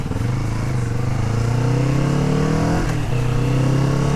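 A Kawasaki Vulcan S motorcycle cruising on a long road trip ride, its engine droning loud and steady at close range with a brief shift in pitch midway, joined by constant wind rush and no talking.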